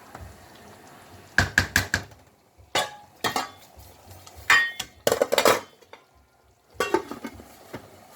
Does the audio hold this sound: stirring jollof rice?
yes